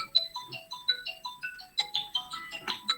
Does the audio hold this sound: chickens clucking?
no